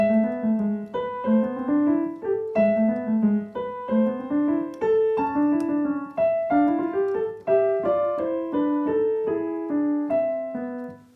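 A piano plays section B of Burgmüller's Arabesque, a moving melody over a steady accompaniment, notes stepping up and down at a moderate pace, clear and close with no voices.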